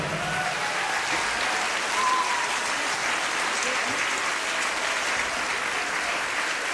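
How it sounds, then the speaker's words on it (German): A school audience applauds continuously, a dense, even roar of clapping that holds steady at full strength from start to finish, with faint voices mixed in. "Applaus bitte."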